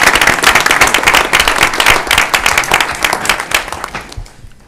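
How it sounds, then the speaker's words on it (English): An audience at a school board meeting claps in a loud burst of sharp, close handclaps that thin out and fade toward the end. "Let's give our students another big round of applause."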